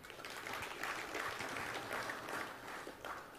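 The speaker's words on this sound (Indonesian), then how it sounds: "Tepuk tangan." Applause from the audience at the opening of the 2021 Bali Arts Festival, steady broadband clapping that stays at an even level throughout.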